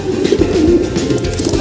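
Pigeons coo up close in a short, loud, throaty burst of soft warbling calls, with no voices.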